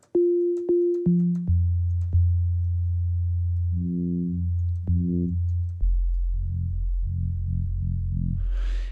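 Pure synthesizer sine tones, made in Ableton Live, step downward in pitch, then pulse in short repeating bursts, clean and steady with no voices.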